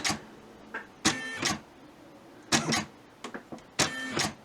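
A Brother SE425 embroidery machine stitches a design in short, loud mechanical bursts of whirring and chattering, separated by brief quiet pauses, close by with no speech.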